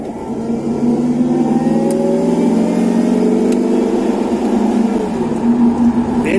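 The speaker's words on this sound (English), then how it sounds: "More supercharger noises, please." A supercharged car engine drones and revs while driving, with a rising whine layered over a steady mid-pitched engine roar, loud and continuous from inside the car.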